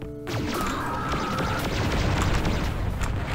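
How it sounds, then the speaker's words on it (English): Rapid laser fire from a Vulcan robot in the Descent video game: a dense, loud burst of booming, crashing blasts with a sustained whining tone, filling the short stretch without pause. "that guy shot like 4 lasers in 2 seconds"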